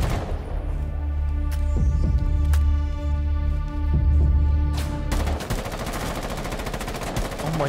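Rapid automatic gunfire with heavy recoil in the Rainbow Six Siege shooter, loud continuous bursts with a deep throbbing low end, a brief pause near the middle, then a denser crackling volley toward the end.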